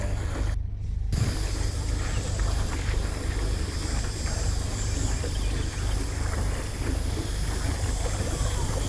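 Wooden rowing boat propelled by foot-pedalled oars on a calm river in Ninh Binh, northern Vietnam, heard as a steady broadband wash of water and wind noise throughout, with a brief dip near the start and no talk.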